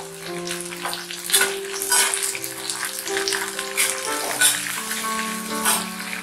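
Onions sizzle in hot oil alongside chana dal in a pan for capsicum chutney, a steady close frying crackle with occasional stirring bursts over a constant musical background.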